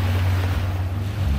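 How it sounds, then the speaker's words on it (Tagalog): Sea waves wash against the shore at Port Barton, Palawan, a close, steady low rumble of surf mixed with wind buffeting the microphone, with no talking. "andito na tayo sa Pangpang o sa tabing dagat"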